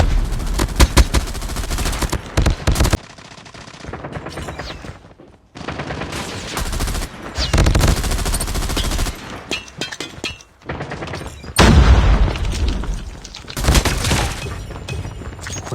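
Rapid bursts of gunfire from a Call of Duty Mobile snowman-themed Big Head Blizzard match, loud and close, come in repeated volleys separated by short quiet gaps, with breaking and impact crashes mixed in.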